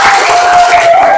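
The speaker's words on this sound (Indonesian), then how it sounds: "Oke, tepuk tangan untuk kelompok 3." Brief burst of classroom applause for a student group during a religious studies lesson, a dense wash of clapping hands filling the moment with a faint steady tone underneath.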